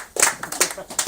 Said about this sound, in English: Big round of applause for Howard Joseph.